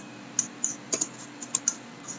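Enter key on a computer keyboard pressed repeatedly, about eight light clicks in an uneven rhythm over a faint steady hum, close and fairly quiet.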